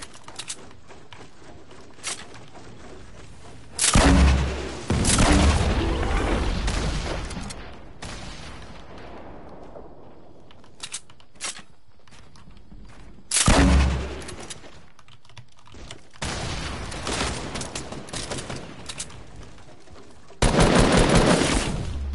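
Gunfire in an online duos shooter match: loud bursts of rapid shots come in several separate volleys, with sharp sniper cracks and quieter gaps of game ambience between them.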